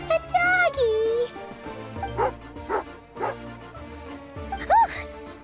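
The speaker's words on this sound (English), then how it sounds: "Oh, a doggy." A dog barks in Genshin Impact during an archon quest: a handful of sharp, separate bow-wow barks spread across the moment, close and fairly loud, over game music with a voice talking.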